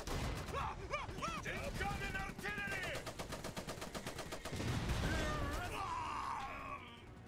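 Machine gun fire in the mech strategy game Iron Harvest rattles in rapid repeated bursts amid battle noise, with shouting and groaning voices layered over it.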